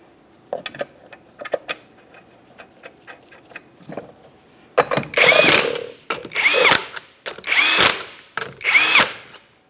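A power tool spins 19 mm lug nuts onto the rear wheel of a 1994-1997 Honda Accord, a few light taps and clicks followed by four loud whirring bursts separated by short pauses, close up with no talk.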